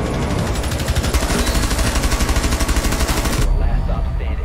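Rapid automatic gunfire in Rainbow Six Siege, sprayed through a wall, as a loud dense burst of shots that runs about three and a half seconds and then stops abruptly, leaving a faint tail.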